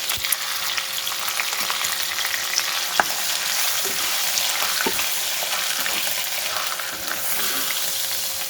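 Mustard greens simmer and fry in oil in a pan, a steady dense sizzle and crackle lasting throughout, close and even, with occasional faint clicks and stirring taps and no talking.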